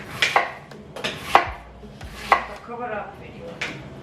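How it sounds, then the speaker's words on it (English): A knife chops cabbage, spring onions, carrots and green peppers on a board, with several sharp, separate thuds spaced about a second apart and some lighter rustling in between. "so we're cutting up all the cabbage, basically all the vegetables, so the cabbage, the spring onions, the carrots, the green peppers"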